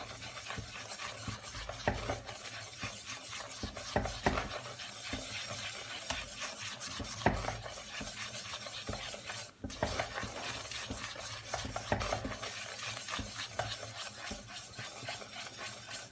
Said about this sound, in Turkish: Mısır unum biraz güzelce kokusunu çıkasıya kadar kavuracağım.